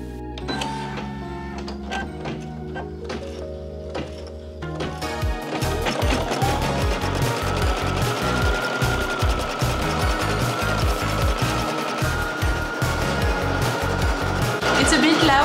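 Embroidery machine stitching a corset design, starting with a few scattered mechanical clicks, then settling into a loud, fast, steady rattling chatter of the needle for the remainder, with a voice talking faintly underneath.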